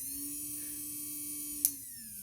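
A steady motor whine from a KUPA MANIPro Mini Passport battery nail drill, with a constant electric hum throughout, joined by one brief sharp click near the end.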